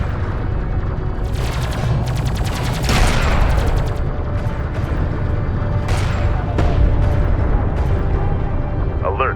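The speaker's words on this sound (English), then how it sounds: "One of our turrets is taking fire." Turret gunfire in Homeworld Deserts of Kharak crackles in rapid bursts and booming impacts over a constant deep rumbling battle drone, with a voice heard briefly.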